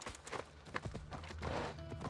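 Horse hooves clip-clop in Assassin's Creed Odyssey on PC, a short run of irregular footfalls mixed with game ambience and music, fairly quiet overall.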